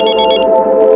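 A telephone rings with a bright electronic warble, the tone sustained through the clip and pulsing in quick bursts at the start.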